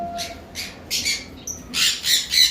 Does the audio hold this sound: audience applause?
no